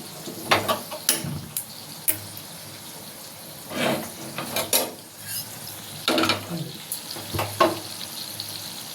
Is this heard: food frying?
yes